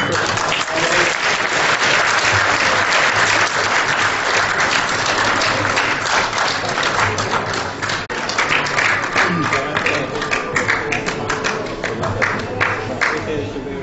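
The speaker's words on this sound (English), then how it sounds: "A big round of applause, please." Sustained applause from a large audience at an insurance association president's inauguration ceremony, dense clapping that fills the room steadily for the whole stretch, with a faint crowd murmur beneath.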